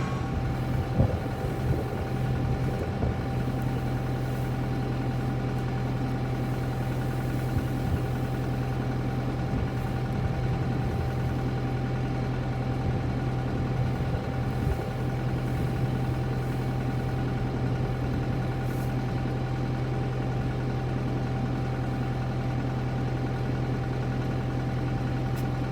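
A tractor engine idles steadily in a farmyard, a constant low rumbling drone with a faint mechanical hum, unchanging and alone for the whole stretch.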